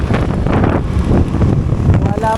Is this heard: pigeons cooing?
no